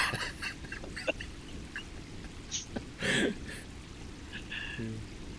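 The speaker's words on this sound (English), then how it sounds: "Here's some bird sounds for you." Bird sounds played over a live stream: duck- or goose-like honks and quacks come in short, scattered calls of moderate loudness against a quiet background.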